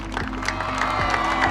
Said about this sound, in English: everyone at the scene starts clapping for him